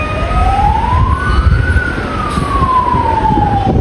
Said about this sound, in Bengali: এখানে একটা অ্যাম্বুলেন্স আটকে আছে, হু হু করে যেতে পারছে না।